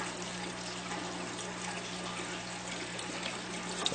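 Water flowing steadily from drip irrigation line on a 1-inch PVC pipe into hydroponic NFT tubes, a continuous soft trickle with a faint hum underneath.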